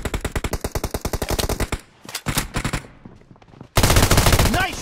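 Rapid machine gun fire from a video game team deathmatch, loud, close bursts of evenly spaced shots, a short pause with scattered quieter rounds, then a dense resumed volley to the end.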